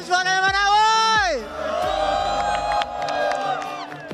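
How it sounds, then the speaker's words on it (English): A crowd cheers and whoops at an MLBB M7 esports event, with loud, sustained voices rising and falling over about four seconds. "We want to hear you cheer."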